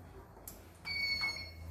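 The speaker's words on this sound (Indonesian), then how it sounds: "ini buzzer," The buzzer on the control panel of an 8 kW solar power system with 25 kWh battery storage at a mining site in Maluku sounds a thin, high electronic tone that rises and sustains over low background noise.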